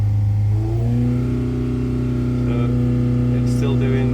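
Carburetted car engine bound for a road car, running under heavy load on a dynamometer with a slight hesitation, holds a loud, steady drone whose pitch climbs gradually; a voice speaks briefly partway through.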